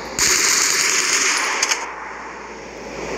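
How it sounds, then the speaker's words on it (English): A machine gun sound effect, a loud dense rattling burst of rapid fire close up that stops abruptly and gives way to a fading hiss. "Some machine gun."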